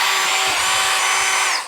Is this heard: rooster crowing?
no